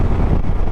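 Wind buffeting the microphone while riding a Can-Am Spyder on a country road, a loud, dense roar with no let-up over the short moment.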